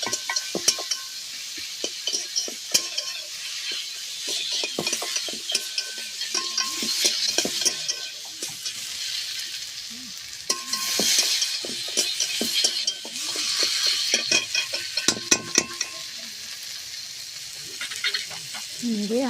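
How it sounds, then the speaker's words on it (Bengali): Spices being stirred into bhola fish oil curry in a pan: a spatula scrapes and taps the pan repeatedly over a soft sizzle, with a brief bit of speech. "দিয়ে সব কিছু একসঙ্গে নেড়ে নেব।"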